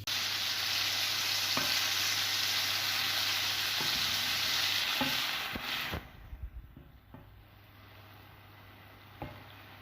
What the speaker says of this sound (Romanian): Am pus ulei și am încins plita, iar acum o să pun pieptul de pui